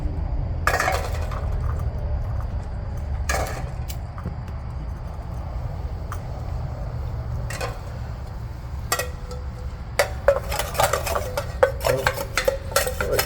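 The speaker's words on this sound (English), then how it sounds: "Clean this pan out better" A cooking pan is scraped and cleaned out at a rainy stealth campsite, with scattered metallic clinks, scrapes and knocks at irregular intervals over a steady background patter.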